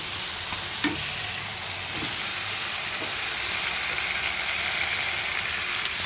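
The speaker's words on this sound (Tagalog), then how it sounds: "Sibuyas at saka bawang. Bisa natin." Onion and garlic sauté in a pan for igado, a steady close sizzle with light stirring clicks running throughout, no voices.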